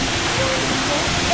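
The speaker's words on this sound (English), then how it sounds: "See, there's a waterfall right there." A waterfall in Guam roars as a steady, dense rush of falling water, loud and continuous for a brief moment with no talking.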